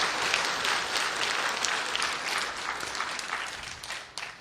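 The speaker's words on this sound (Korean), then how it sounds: "그분들을 위해서 격려의 박수를 함께 쳐주시기 바라겠습니다." A church congregation in Jeonju gives warm, continuous applause to encourage new members. The dense clapping fills the room evenly and fades slightly near the end.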